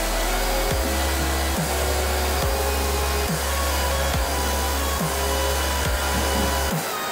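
A vacuum cleaner runs steadily and loud throughout, its motor hum pulsing briefly at regular intervals as it is pushed around during a move.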